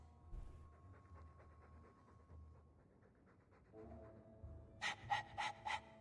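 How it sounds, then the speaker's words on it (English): Dog from Dragon Age: Inquisition panting in quick rhythmic breaths, fairly faint and close, with a few louder sharp huffs toward the end. "All that noisy dog breath,"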